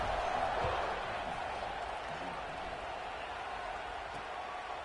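Stadium crowd in the College Football 25 video game, a steady dense roar of many voices that swells slightly at the start and holds at a constant level.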